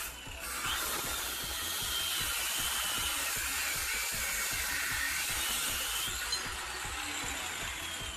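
A cutting disc slices through the metal rear end of an AE86 Corolla SR5 during a rear axle swap, giving a steady loud whining hiss that runs almost unbroken for several seconds, close by and with no talk.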